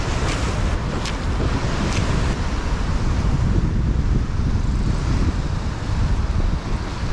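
Rough ocean swell of about 1.2 meters surges and crashes at a sea cave, a loud, steady roar of surf with heavy wind buffeting the microphone throughout.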